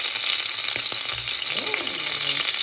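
Shrimp frying in hot oil in a pan, giving a loud, steady, continuous sizzle and crackle with no voices over it.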